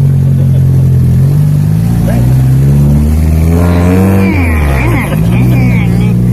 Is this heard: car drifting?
yes